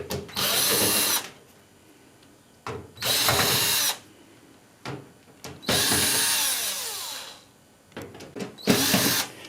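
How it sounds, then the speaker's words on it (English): An electric screwdriver backs screws out of the heater cover on a Beko DRCS76W tumble dryer, giving four loud, close whirring bursts of about a second each, separated by quieter pauses with small clicks and handling knocks. "an electric screwdriver is really handy for doing this job"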